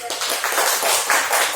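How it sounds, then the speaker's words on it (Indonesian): A classroom of students claps briefly for a classmate, a short burst of close, lively hand clapping that rises and falls over about a second and a half. "Tepuk tangan dulu dong."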